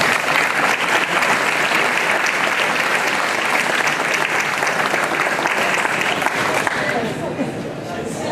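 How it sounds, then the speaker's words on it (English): Audience applause at a legislative meeting, loud and sustained, dense clapping filling the room for about seven seconds before thinning slightly near the end. "And Katie, I thank you and applaud you."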